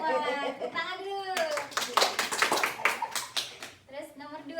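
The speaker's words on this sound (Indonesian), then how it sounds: "Tepuk tangan dulu" Students in a microteaching classroom clap together after a teacher's voice, a burst of quick, fairly close claps lasting about three seconds, with speaking before and after.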